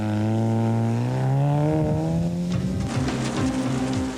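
A Hyundai Elantra rally car driven by an all-women crew on a stage of a 2002 Natal rally roars loudly and close, its engine revving up through the gears with a rising pitch before shifting and pulling hard.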